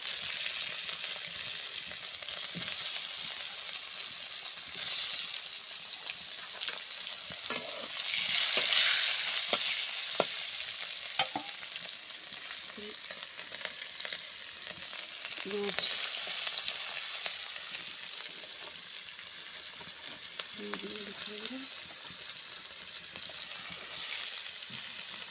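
Boiled potatoes fry in hot oil seasoned with panch phoron, cumin and turmeric in a village kitchen, giving a steady close sizzle with occasional stirring clatter and no talk.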